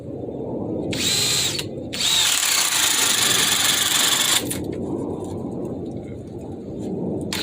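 Ridgid subcompact cordless drill running at its low speed 1, a steady whirring motor drone held for several seconds with brief louder high-pitched bursts as it works, close to the microphone.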